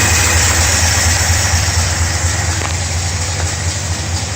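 A 1955 Studebaker Speedster engine fitted with a rebuilt Carter WCFB carburetor idles steadily and close, a loud, even low rumble with no voices.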